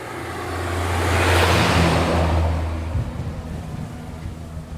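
A bus passes on a beachside road, its engine drone and tire roar swelling to a peak and then fading away, with a low engine hum that drops off midway.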